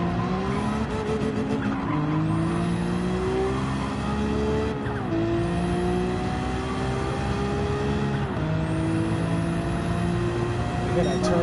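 A Nissan GT-R R35 in a racing video game runs at sustained high revs, with rising engine tones, gear shifts, tire squeal and a steady hissing turbo, loud and continuous.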